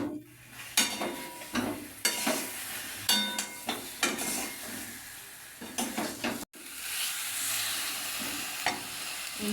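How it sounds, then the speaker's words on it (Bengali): Fried potatoes tipped into sizzling spice masala in a pan and stirred, a run of sharp clanks and scrapes over steady frying hiss, with a brief gap before the sizzle resumes. "এইবার আলুগুলো যেটা তেলে ভেজে রেখেছিলাম সেই আলুগুলো দিয়ে দিচ্ছি।"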